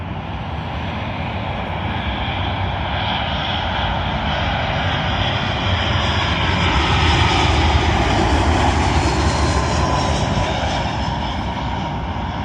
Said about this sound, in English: Arriving in now is British Airways Airbus A319,